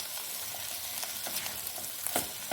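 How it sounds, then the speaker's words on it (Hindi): Vegetables for vegetable cutlets frying in a pan, a steady close sizzle throughout with occasional sharper crackles and faint scrapes of stirring. "तो इनको हम अच्छे से भून लेंगे।"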